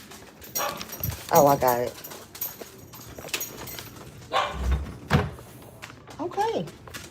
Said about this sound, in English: My son's dog is barking like crazy.